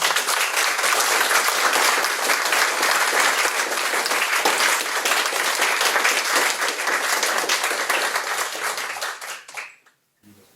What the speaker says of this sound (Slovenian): jaz mislim, da si tale navdihujoč pogovor zasluži en velik aplavz